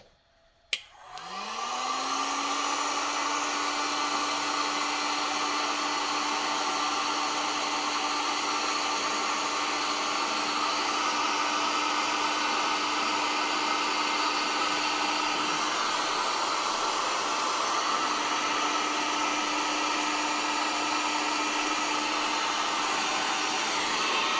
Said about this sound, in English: Okay, now I got the heat gun. And shrink the heat shrink.